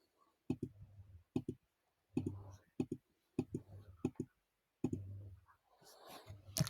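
Mouse buttons clicking on parts in CAD software, sharp close clicks arriving singly and in quick pairs or bursts with short pauses between, a faint rustle near the end.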